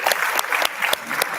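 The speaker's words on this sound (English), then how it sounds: "Let's give a big round of applause for the challenging teams ahead." Audience applause fills a hall at an intercollegiate physiology quiz competition, a steady dense clapping from many hands with periodic louder bursts, sustained and fairly close throughout.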